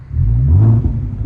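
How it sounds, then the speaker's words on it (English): A 2015 Ford Mustang's 3.7-litre V6 (224 kW), parked, gives a single short throttle blip that swells to a deep rumbling rev and then settles back. "Listen to that throttle"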